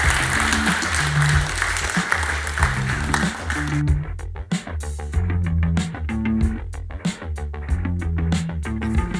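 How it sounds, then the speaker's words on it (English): Audience applause for a speaker at a cryptocurrency finance conference fills the first few seconds over rhythmic background music, then gives way to the beat-driven music playing on its own. "Please give him a round of applause."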